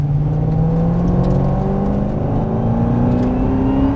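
A Ford Mustang Shelby accelerating on a drift course, its engine droning loud and close with a steadily rising pitch as the revs climb.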